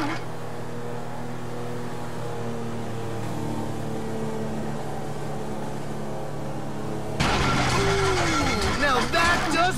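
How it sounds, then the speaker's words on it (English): In Grand Theft Auto V, a boat engine drones steadily, then turns rough and sputtering with clattering bursts over the last couple of seconds as it fails, with game sound around it. "Doesn't sound good. Damn, that's the engine, man."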